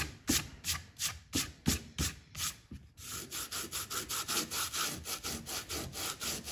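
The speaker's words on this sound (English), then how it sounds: "very gently with your fingers, just sort of scrape that all off." Fingers scraping dried watercolor paint off paper with a rough, sandpaper-like rasp, in a run of regular close strokes, quicker and steadier in the second half, with no talk.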